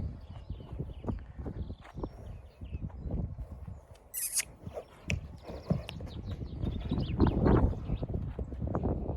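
A stallion moves about, its hooves thudding and clopping irregularly close by, with a brief high whinny partway through against a busy farmyard background.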